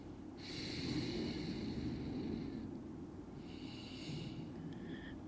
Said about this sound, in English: Last 2 deep breaths here.